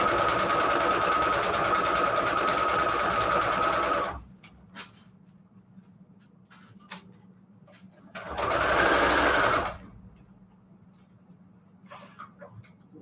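A sewing machine stitches quilt strips together in two loud, close runs of rapid whirring, first about four seconds and later about two, separated by quiet handling and small clicks.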